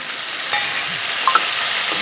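Ground spice paste sizzling in a pan after a splash of water, being stirred, a dense bright hiss with a few light scrapes and clicks of the spoon, close and steady.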